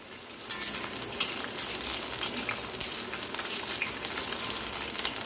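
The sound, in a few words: frying bitter gourd (uchhe) in a pan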